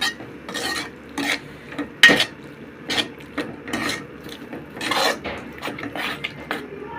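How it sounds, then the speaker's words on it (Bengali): Spoon scraping and clinking against a pan while egg curry masala with coriander powder and a splash of water is stirred and sautéed, giving irregular close clatters and knocks over a soft sizzle. "একটু জল দিয়ে ভালো করে কষাই নিতে হবে।"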